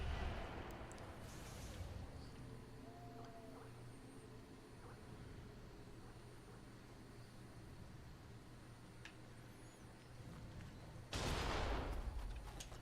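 An enemy's hand cannon booms in Nioh 2, one sudden, loud, broadband blast near the end over a low, steady game backdrop, with a fainter crack earlier.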